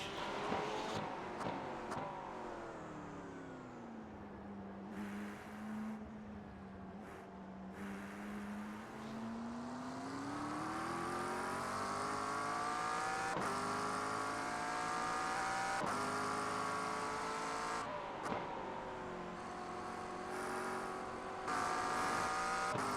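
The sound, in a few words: GT3 race car engines, Porsche and Ferrari, Nürburgring racing video game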